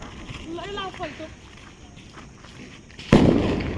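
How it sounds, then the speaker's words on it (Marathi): A two-shot firecracker bomb bursts with a single loud, sharp crack near the end, after a short stretch of voices and quieter outdoor noise. "परत एकदा सुटली बॉम्ब लावलाय. हे पाला लहान तो उडता अंगावर. 2 शॉट आहे तो लावला"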